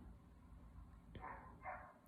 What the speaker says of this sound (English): If you hear the dog barking